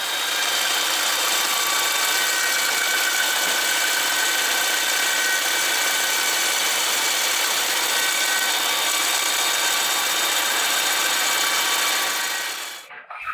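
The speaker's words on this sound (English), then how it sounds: "this guy converted a standard saw into a sanding tool" A standard saw converted into a sanding tool grinds against wood, a loud steady abrasive whir with constant rubbing texture, close and uninterrupted before stopping at the end.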